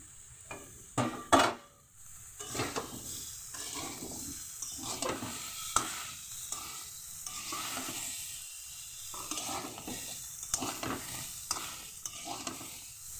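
Ginger is tossed into a hot oiled frying pan and stirred, a steady sizzle under rhythmic scraping of a spatula against the pan, close and continuous with a couple of sharper knocks early on.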